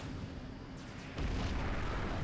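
Deep booming explosions rumble in the strategy game Supreme Commander: Forged Alliance, a steady low roar that swells into a heavier, louder blast partway through, with no talk.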